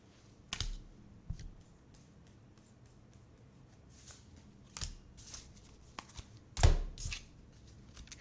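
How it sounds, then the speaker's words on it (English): Playing cards, tarot-style, are shuffled close by in quiet, irregular bursts of soft riffling and slapping, with a sharper clack near the end. "shuffling the cards right in front of you"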